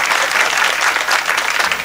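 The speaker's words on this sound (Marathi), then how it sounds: "एकदा चांगली वाजवा टाळी खरंच" Audience at a kirtan claps loudly and steadily, a dense burst of many hands close to the microphone that holds at an even level throughout.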